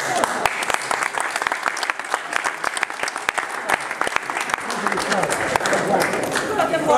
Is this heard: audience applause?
yes